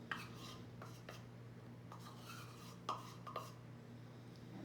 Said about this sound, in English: I'm just going to scrape some of the rest out with my spoon so I can make sure I have the whole cup in my bowl